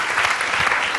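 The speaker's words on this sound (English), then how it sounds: "Keep that applause rolling." A TEDxSydney audience claps in a dense, steady burst of applause, loud and filling the hall for the whole second.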